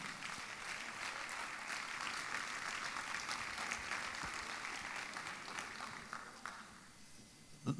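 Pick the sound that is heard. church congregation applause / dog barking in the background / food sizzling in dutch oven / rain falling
church congregation applause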